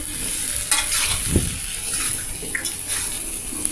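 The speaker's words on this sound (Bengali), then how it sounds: "এখন আমরা আমগুলো ঢেলে নিয়ে সুন্দর করে এগুলো নাড়িয়ে চাড়িয়ে ভালোভাবে মেখে নেব" Mango pieces for a sweet and sour pickle are stirred in a hot pan, a close sizzling hiss under a spoon scraping and turning them, with one louder thump of the spoon midway.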